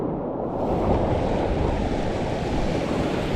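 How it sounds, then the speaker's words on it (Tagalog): Strong sea waves crash and roar continuously around a small fishing boat at sea, a loud, dense wash of surf mixed with wind buffeting the microphone, with no voices. "Ang lakas ng alon talaga."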